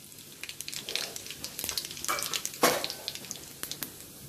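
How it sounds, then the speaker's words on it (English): Cumin seeds sizzle and crackle in three tablespoons of hot oil in a large pan, a steady close frying hiss with small pops and a louder burst partway through, with no voices. "I have heated 3 tablespoons of oil in a large pan. Now we will add cumin seeds,"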